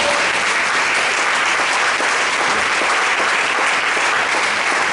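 A church congregation at a French-language worship service applauds and acclaims Jesus with loud, sustained clapping that fills the room steadily from start to finish.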